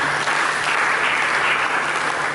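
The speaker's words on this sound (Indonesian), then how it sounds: "Berikan tepuk tangan bagi Tuhan." A church congregation claps together in steady, dense applause that fills the room at an even loudness throughout.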